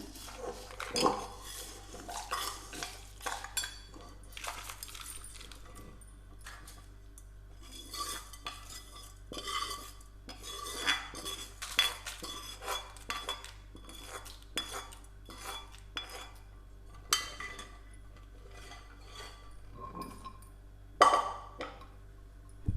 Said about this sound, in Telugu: ఫ్రెండ్స్, మనం ఇప్పుడు రోట్లోకి వేసుకొని దంచుకుందాం.